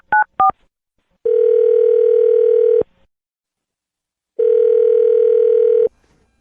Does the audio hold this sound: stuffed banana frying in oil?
no